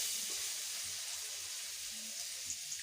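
Oil hitting a hot kadai on a stove, cooking chicken with vegetables, gives a steady, fairly faint hiss that runs evenly throughout, with no voices.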